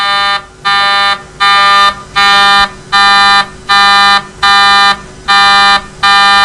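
A synthetic alarm-like test tone in which one frequency component is delayed by 160 milliseconds, sounding as about nine loud, evenly spaced buzzing beeps with short gaps between them, with no talking.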